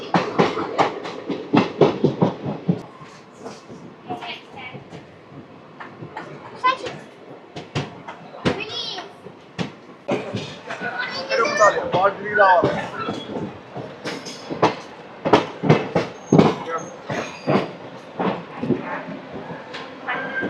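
The Puri Tirupati Express passenger train runs on the rails with sharp, rhythmic wheel clacks heard from inside, under frequent nearby talk and children's voices.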